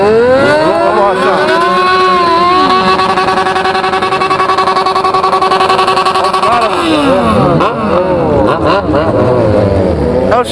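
A motorcycle engine revs hard and loud, climbing and falling in pitch through several sustained pulls near at hand, with faint voices under the roar.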